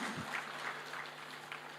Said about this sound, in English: with a huge round of applause from all of you, please.